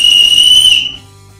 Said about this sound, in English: The adjustable sternum strap features an integrated emergency whistle.